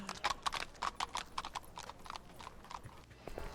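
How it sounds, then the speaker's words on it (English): Horse hooves clip-clop in a steady rhythm from a horse-drawn buggy in the video game Casebook 1899, set in Leipzig, with a brief whinny-like tone and moderately close, clear hoofbeats. "And wagons, horse and buggy."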